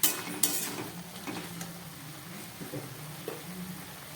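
A vegetable curry with chickpea greens and softened bori gets stirred in a pan, a spoon scraping and clinking against the metal in a few bursts over a low, gentle sizzle, with no voices.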